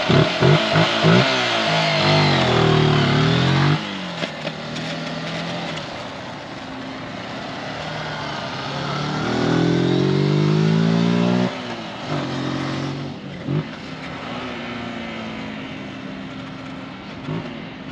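A 125 cc motorcycle or a Harley, ridden and revved close by, engine rising and falling through repeated throttle sweeps and gear changes, loud and steady with no talking.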